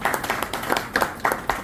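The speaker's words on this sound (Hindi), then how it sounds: "तालियां बजाएं, तालियां" Audience members clap at a community event on journalism, a loose group producing a quick run of sharp, uneven claps, fairly close.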